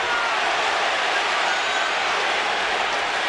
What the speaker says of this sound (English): Crowd begins to chant